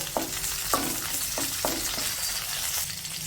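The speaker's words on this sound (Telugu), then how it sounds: "చూడండి, ఇప్పుడు పచ్చిమిరపకాయలు కొద్దిగా వేగాయి" Green chillies, peeled garlic cloves and tamarind sizzle in hot oil in a pan, with four or five quick clattering spatula scrapes spaced over a steady crackling fry. No one speaks.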